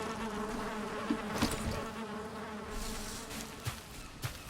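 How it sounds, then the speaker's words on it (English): Bees buzz at a hive in a Viking-themed video game, a steady close insect drone with a couple of soft thumps from the action, and no talk over it. "We're just going to destroy the hive."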